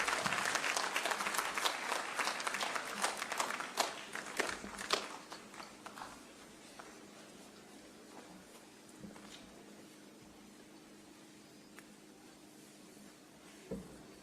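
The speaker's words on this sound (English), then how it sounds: "Let us all rise and welcome His Excellency with a clap." Audience applause welcoming Kenya's president at a university graduation ceremony in Nairobi, a large hall of clapping that is strongest at first, then thins into scattered claps and shuffling as people settle.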